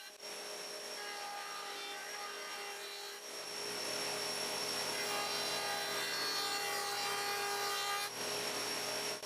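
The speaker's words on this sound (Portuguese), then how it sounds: "levei a tábua à desempenadeira e alinhei uma borda." A jointer runs steadily while a wooden cutting board is passed along it to true one edge, giving a continuous whining, rasping cutter noise with a slight shift in tone partway through, close and fairly loud with no talking.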